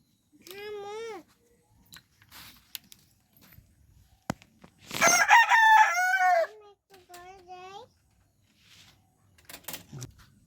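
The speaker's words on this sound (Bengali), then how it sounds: "এখন আপাতত 3টা মুরগি এবং একটা মোরগ আছে" A desi rooster crows in short bursts near and loud, with scattered clucks and a few knocks and footsteps between the calls, in an otherwise quiet yard.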